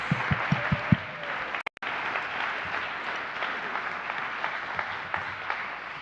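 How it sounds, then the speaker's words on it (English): A church congregation gives a soft, steady round of applause for graduating high school seniors, heard at a distance and fairly quiet, opening with a few distinct claps. "let's have again for our graduating high school seniors a round of"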